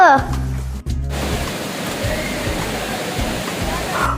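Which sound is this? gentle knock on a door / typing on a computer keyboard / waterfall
waterfall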